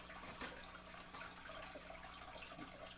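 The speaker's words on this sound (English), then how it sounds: "put the water in that tank" Water runs into a fish tank being set up, a quiet, continuous hiss and trickle with small splashy bursts, faint and steady throughout.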